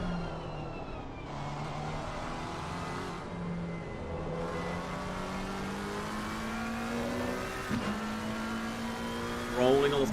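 An onboard race car engine in Assetto Corsa at Indianapolis roars loud and close on a flying lap, pitch rising through each gear with sharp upshifts and a brief burble near the end, a voice talking quietly beneath.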